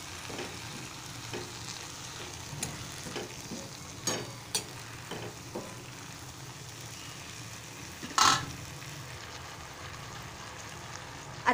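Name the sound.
sautéing drumstick vegetable in a pan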